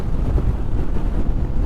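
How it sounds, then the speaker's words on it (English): Low, steady wind buffeting and rumbling close to the microphone while riding a Honda ADV 150 scooter, with no voices. "Windy, windy, windy, windy."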